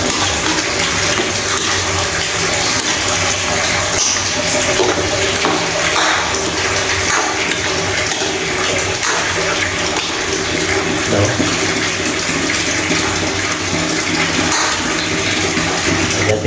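Water is poured into a pot of chicken cooking for afritada, a steady loud rushing that lasts throughout without pause.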